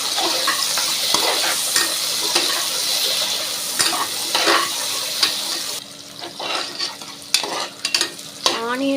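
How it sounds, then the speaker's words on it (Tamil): Onion, green chilli and curry leaves fry with spices in a pan for tomato rice, a continuous close sizzle broken by spatula scrapes and stirring clanks that grow sparser and more irregular toward the end. "இப்போ ஆனியன் பச்சை மிளகா கருவேப்பில எல்லாம் ஆட் பண்ணிடலாம் நல்லா மிக்ஸ் பண்ணிடலாம்"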